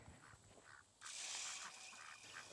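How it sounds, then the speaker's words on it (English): Pekin meat ducks quack while feeding outdoors, several soft nasal calls at first, then a louder burst of overlapping quacks over a hissing background. "He's a meat duck. He's a Pekin duck."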